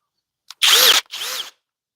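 A Flex FX1371 impact driver on a 5 amp-hour battery at speed 3 gives two short, loud bursts of high, whining motor and hammering, each under half a second with a brief gap between, then stops abruptly.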